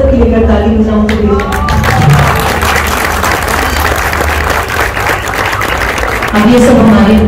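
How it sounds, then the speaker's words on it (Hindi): A studio audience on a Pakistani television talk show applauds, loud and sustained, with voices briefly audible at the start and end. "मैं खड़े होकर आप सबके लेकर ताली बजाऊंगी"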